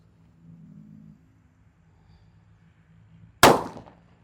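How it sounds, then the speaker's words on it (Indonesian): A firecracker strapped to a plastic cup of packaged drinking water bursts in one sharp, loud bang, preceded by a low quiet rumble and followed by a brief decaying ring. "di sini ada mercon Colorful Sweeter yang kita ikat dengan air minum kemasan gelas"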